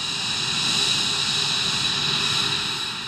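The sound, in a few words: F-22, Typhoon and Rafale fighter jet engines starting up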